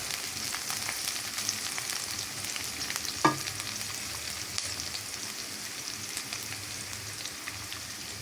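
Onions fry with salt in a pan, giving a quiet, even sizzle throughout, with one sharp utensil clink partway through.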